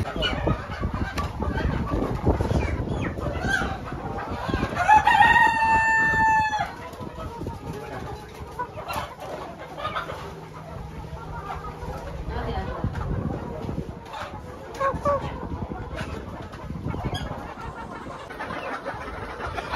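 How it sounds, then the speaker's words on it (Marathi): At a poultry seller's in Konkan, a rooster crows loudly partway through, with chickens clucking and scattered birds around it amid busy background noise and some talking. "इकडे बघू शकता केवढे कोंबडे आहेत"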